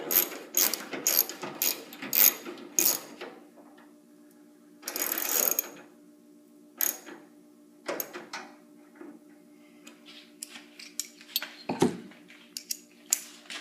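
Ratchet wrench with an extension tightening the grille bolts on a 1966 Ford Mustang, heard as bursts of quick clicking strokes, close and clear, separated by pauses and small metallic handling noises.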